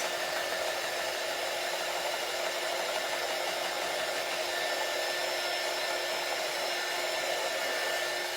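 Hair dryer blowing on a spring-themed craft project: a steady, close, loud whooshing hum with a constant whine, running unbroken from start to finish with no talk.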